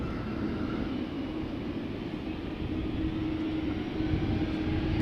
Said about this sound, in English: We just see a 777 rolling out.